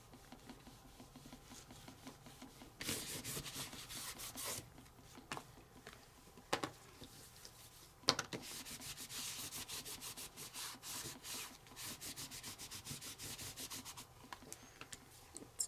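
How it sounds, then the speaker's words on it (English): A baby wipe is rubbed across a plastic embossing folder to clean off dye-based ink, producing soft, close, intermittent scrubbing strokes in bursts, fairly quiet and with no talk. "I'm going to clean my embossing folder with a baby wipe."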